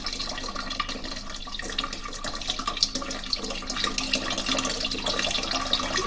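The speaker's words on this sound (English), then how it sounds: "has used classical references to Ctesibius's work to build a replica of one of his earliest water clocks" Water flows through a replica of an ancient Ctesibius water clock, a continuous close trickling and splashing that grows slightly louder toward the end, with no voices.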